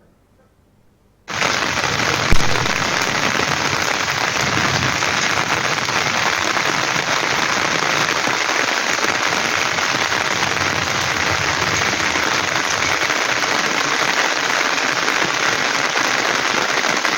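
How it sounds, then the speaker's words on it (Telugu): Heavy rain pouring down in Warangal, Hanumakonda, a dense, loud, steady hiss that starts abruptly and keeps up without a break, with faint sharp pops underneath. "వరంగల్ హనుమకొండలో వర్షం దంచుకొట్టింది. జంట నగరాల్లో జోరువాన కురిసింది."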